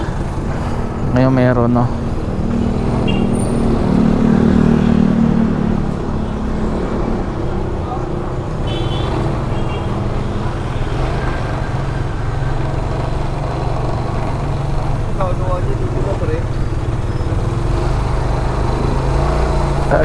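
Rush-hour road traffic outside a village is a steady, close wash of engine rumble and rolling tires, with vehicles passing throughout. Someone talks casually over it now and then.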